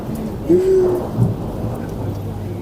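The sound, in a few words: thunderstorm with rain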